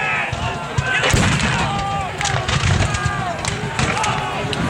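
Civil War reenactment artillery at Antietam: cannon booms and crackling gunfire rolling across a battlefield during a morning engagement, with a voice talking over the din and crowd noise in the background.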